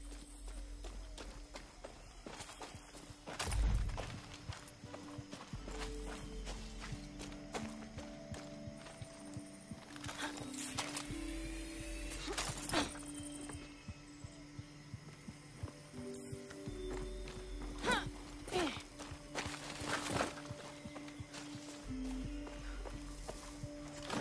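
A horse is ridden in the video game Far Cry 6, its hooves clip-clopping in a steady rhythm over a low hum, with short mechanical clatters and occasional louder impacts.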